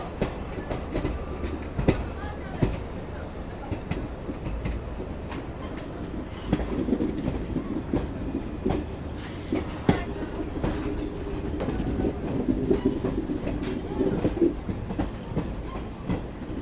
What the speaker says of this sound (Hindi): पर अब हमारी ट्रेन यानी गरीब एक्सप्रेस सामने की ओर बढ़ रही है